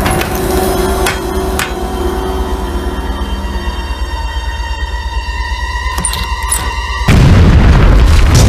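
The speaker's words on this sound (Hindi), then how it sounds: "उड़ा दो इस चट्टान को।" A cartoon explosion blasts apart a rock, landing as one loud, booming burst near the end after a stretch of rumbling, layered effects.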